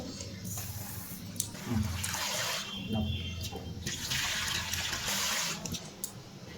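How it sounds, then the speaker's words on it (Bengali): Running water as rice is rinsed for a home-cooked chicken meal, a steady broad splashing and trickling that fills the whole stretch, with a brief stronger surge in the middle and faint voices underneath. "আর আমি এদিকে কিন্তু চালটা ধুয়ে দিয়ে যাচ্ছিলাম।"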